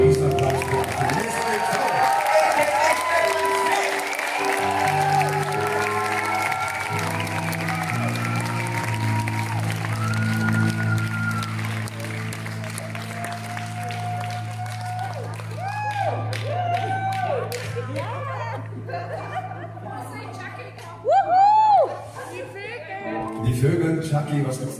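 A theater crowd at a concert applauds and cheers, with steady music and voices running underneath the clapping.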